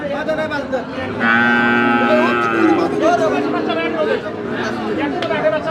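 A heifer calf lets out a long, loud moo at a busy rural cattle market, rising above a steady babble of people talking and bargaining nearby.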